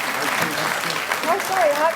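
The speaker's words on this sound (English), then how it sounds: "We can now applaud up." A convocation audience breaks into a short burst of applause, steady clapping from the crowd with faint voices and a few thin whistle-like tones mixed in.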